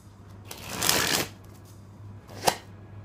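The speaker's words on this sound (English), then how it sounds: "The deck dribbles well." Red October Saturn playing cards, a US Playing Card Company deck on Bicycle-style stock, dribbled from hand to hand: a close, fairly quiet cascading flutter of falling cards, then a short sharp flick, with no talk over it.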